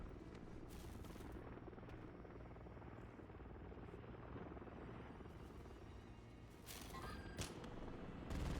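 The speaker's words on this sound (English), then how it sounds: "Friendly Overwatch Helo inbound." A friendly overwatch helicopter arriving in a military shooter game, its rotor thrumming loud and steady throughout with faint distant gunfire mixed in, no talking.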